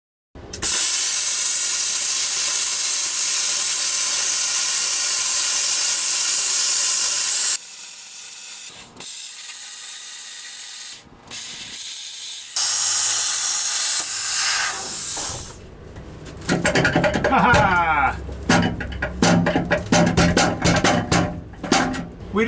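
A plasma cutter slices metal on a gooseneck enclosed car trailer during a jack-mount refit: a loud, steady hiss for several seconds, a pause, a shorter burst, then a run of sharp metallic clanks and rattles.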